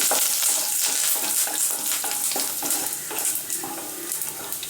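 Cashews and curry leaves fry in oil for lemon rice while being stirred, a loud, close crackling sizzle with rhythmic scraping strokes of a spoon against the pan, no voices present.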